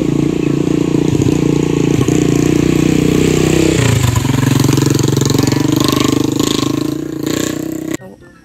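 A taxi arrives on a cool, cloudy street, its engine a steady mid-pitched idle and rumble that swells as it draws near, then cuts off abruptly near the end.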